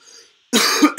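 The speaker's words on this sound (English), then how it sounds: "I cough" A single harsh cough from a sick person, close and loud, followed by a short second cough after a brief silence.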